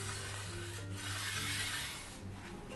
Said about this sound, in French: permet de glisser le cutter dans une espèce de guide qui va permettre de faire circuler